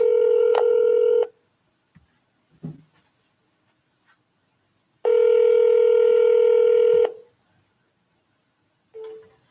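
A telephone auto-dialer calling real estate leads produces two long, steady electronic ringing tones over a quiet line, separated by silence with faint clicks, then a brief third tone.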